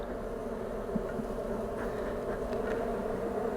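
Honey bees buzz around an opened hive in a steady, faint, even drone, with a few individual bees rising briefly above the hum.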